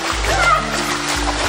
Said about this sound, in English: kick as fast as you can, try and splash me